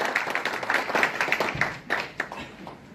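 Applause from an audience at a Korean national policy meeting, a quiet, scattered patter of clapping lasting a few seconds and thinning toward the end.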